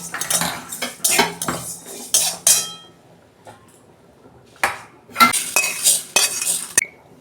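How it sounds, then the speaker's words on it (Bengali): Fried mung dal being scraped and tipped out of a metal pan, with bursts of spoon and utensil clatter against the metal, separated by short quiet gaps, close and fairly loud. "এই যে ডালটা আমি ভেজে নিয়েছি, আমি ঢেলে ফেলছি ডালটা।"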